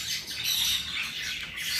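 Lutino parakeet in a breeding cage giving rapid, high, chattering squawks and chirps, fairly close and continuous, with no talking.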